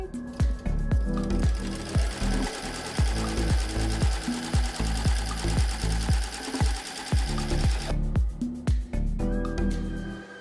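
An embroidery sewing machine stitches a Halloween in-the-hoop design, its needle hammering in a fast, regular rhythm of close, punchy thumps over a whirring motor, then the pattern shifts briefly before resuming.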